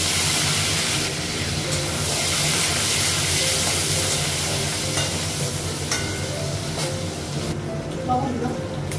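Tomatoes dropped into hot oil with panch phoron and chillies, sizzling and hissing steadily while being stirred, with a brief voice over the frying.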